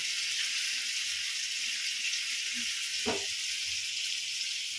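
Fish frying in a pan gives a steady, soft hiss of sizzling oil that stays even throughout, with one brief faint knock near the end.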